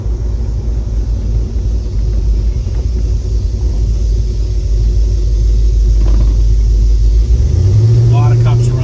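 Deep, loud engine rumble from a 1970 Ford Mustang Mach 1 with a hood scoop, a steady low drone filling the whole stretch and swelling heavier near the end.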